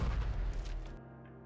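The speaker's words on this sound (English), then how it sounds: "A massive explosion rings out" A massive explosion in the video game Goddess of Victory: Nikke: a deep, rumbling boom with roaring low-end noise that fades and then cuts off abruptly.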